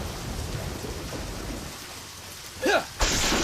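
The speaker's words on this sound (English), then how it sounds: "because it's raining" Steady rain hissing in the video game Deadly Premonition, continuous and fairly soft, with a brief louder sweep near the end and a sudden jump in level at the very end.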